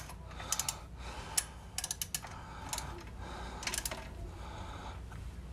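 A hand ratchet snugging down an oil pump bolt on a small block Chevy engine, heard as faint, quick clicking bursts against a steady background hum, close but quiet, with no voices.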